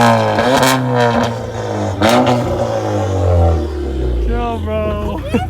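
A 2018–2020 Honda Accord Sport 1.5-litre turbo fitted with a catalyst downpipe, resonator and muffler revs in sharp bursts at a car meet, loud and nearby, with people talking over it.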